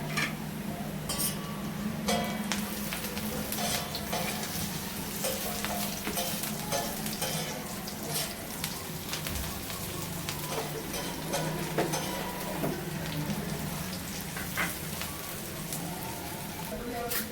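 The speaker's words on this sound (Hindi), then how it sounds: "सफाई करने के बाद प्याज को करेंगे ब्राउन।" Onions browning in hot ghee in a pan while cooking gurda kapoora, a steady crackling sizzle with occasional clinks of a spoon against the pan, loud and continuous.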